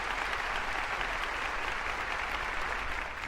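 Applause from a church congregation welcoming an orchestra at a Bible study gathering in Bogotá, a steady, dense wash of many hands clapping that continues evenly throughout without any speech over it.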